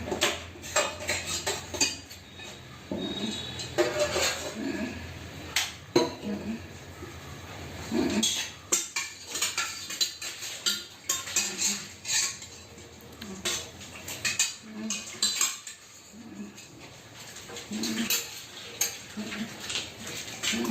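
Dishes, pots and cutlery being washed in a home kitchen, with frequent close clinks and clatters of metal and crockery scattered throughout, while people talk intermittently.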